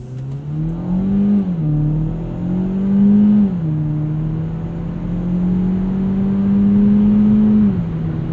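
A 2017 Hyundai Elantra Sport's 1.6-liter engine pulls hard in steady acceleration, its loud droning tone climbing and easing with each gear change across the whole stretch, heard close from inside the cabin without talk.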